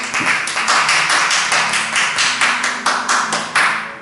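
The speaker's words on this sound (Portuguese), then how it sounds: "Pode aplaudir o Senhor" A church congregation applauds the Lord at the close of a service, steady loud handclaps falling into a rhythmic, pulsing beat with swelling accents roughly every half second, sounding close and full.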